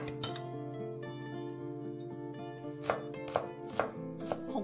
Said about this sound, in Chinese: 姜都是切碎